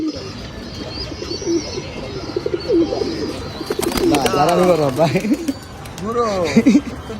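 Pigeons coo repeatedly close by on a rooftop, with chirps and a flutter of wings mixed in, while people talk over the birds.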